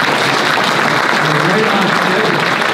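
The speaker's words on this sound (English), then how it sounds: "Don't you think the candidates all deserve a round of applause?" Loud, close, sustained applause from the audience at an all-candidates council meeting in Midland, Ontario, a thick wash of clapping with crowd murmur mixed in and no break across the brief moment.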